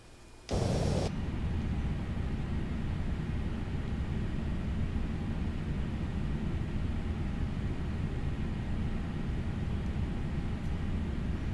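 A Boeing 747 in Flight Simulator X sends out a steady broadband engine roar after a brief burst at the start, holding an even, constant drone to the end.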